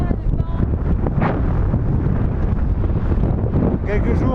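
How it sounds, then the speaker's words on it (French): Cold, strong wind on the Bolivian altiplano between La Paz and Potosí, roaring and buffeting the microphone loudly and continuously, with rougher gusts rising and falling. "C'est le froid, le vent."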